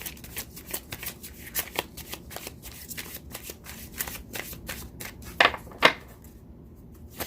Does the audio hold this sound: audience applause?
no